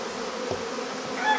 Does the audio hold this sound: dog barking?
no